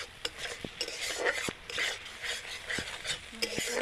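Spice paste for a gondhoraj katla fish curry stir-fried in a pan, with steady broadband sizzling and frying hiss throughout, punctuated by scattered clicks and scrapes of a spoon stirring against the pan, close and fairly loud, no talking.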